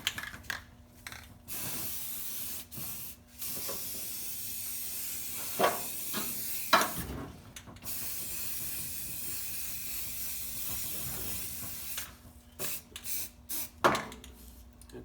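Self-etching primer hisses from a spray can onto car wheel tubs in several long bursts of varying length, close and steady, separated by brief pauses and a few clunks, with no speech.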